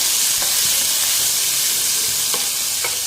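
Chopped tomatoes being stirred into sautéed onions in a pan, a loud continuous sizzle and hiss right up close with a few scraping strokes of the spoon, no voices.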